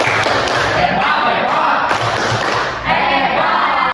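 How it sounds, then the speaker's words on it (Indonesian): Schoolchildren in a classroom doing a rhythmic clap-and-shout cheer together, a loud group of voices chanting over thumping claps, steady and continuous across the whole stretch. "Ya, tepuk hebat dulu. Tepuk hebat."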